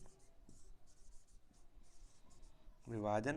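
Pen scratching out a maths solution by hand, faint and close, in short irregular strokes and pauses, with a voice starting to speak at the very end.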